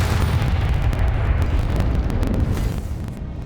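Confringo blasting spell explosion in the Hogwarts Legacy video game, a loud, deep, sustained rumbling blast with crackling bursts that slowly fades toward the end.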